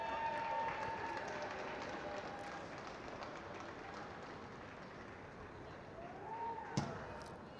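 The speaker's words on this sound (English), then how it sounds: "That cheer was just for a few more substitutes" A rugby crowd at a Celtic Challenge match between the Combined Provinces and The Thistles cheers steadily for substitutes, a broad distant roar that holds and slowly fades, with a sharp clap-like bang near the end.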